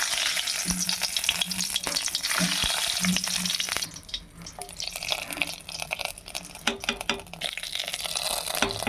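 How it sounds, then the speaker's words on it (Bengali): Hot oil poured over a pot of khichdi crackles and sizzles loudly, a dense frying hiss that eases after a few seconds into quieter bubbling with occasional stirring clinks; no one speaks. "তেল আমার গরম হয়ে গেছে, এবার আমি তেলটা খিচুড়ির মধ্যে দিয়ে দেব।"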